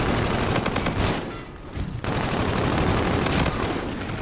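Loud bursts of rapid gunshots fill a shooter video game match, firing almost continuously with a short lull in the middle.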